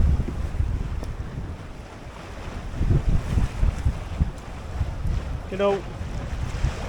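Wind at 15 to 18 knots with gusts into the 20s roars across a sailboat under sail at sea, a rough blustery rush with water sloshing against the hull and a brief spoken phrase near the start.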